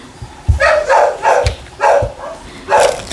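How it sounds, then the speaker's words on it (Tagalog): A dog barks repeatedly in short bursts, about five loud woofs with brief pauses between them, fairly close. "maingay yung aso"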